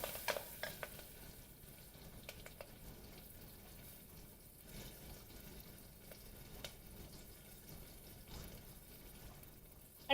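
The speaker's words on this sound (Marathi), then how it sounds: "ही बघा, 2 मिरच्या आणि थोडा कढीपत्ता. मस्त तेल आपलं टाकलेलं आहे. अंगावर नुसतं फुलत आहे." Green chillies and curry leaves sizzling in hot oil, a quiet steady hiss with scattered spattering pops and stirring noises, no talking.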